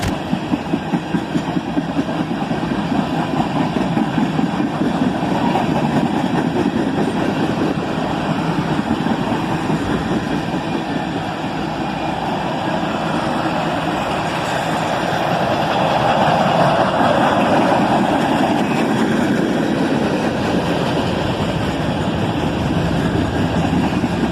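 A long freight train of tank cars rolls past with a steady rhythmic clatter of wheels over rail joints while the locomotive's engine throbs loudly and builds as it accelerates, close and continuous for the full length, without talk.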